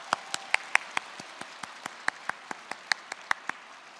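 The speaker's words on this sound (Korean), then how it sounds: "우리 옆에 있는 분에게 축복의 박수를 또 하나님께 영광의 박수를 보내겠습니다." A church congregation at a Korean Thanksgiving service gives a blessing round of applause: sparse, evenly spaced individual claps, fairly faint and distant, with no talk over them.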